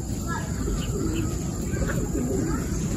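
Pigeons at a racing pigeon club during training, with faint cooing and a few chirps mixed into steady outdoor background noise.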